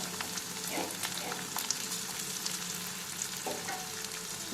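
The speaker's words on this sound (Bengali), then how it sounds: "এবার এটাকে একটু ভাজা ভাজা করতে হবে, একটু হালকা ব্রাউন কালার আনতে হবে।" Chopped onion, garlic and chili fry in a pan for a lentil dal, with a continuous moderate sizzle and scattered scraping and stirring knocks close by.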